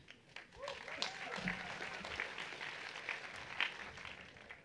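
Applause for Jānis Rozenbergs at a political roast event, a steady moderate spread of clapping from an audience with scattered sharper claps, continuous throughout with a voice faintly underneath.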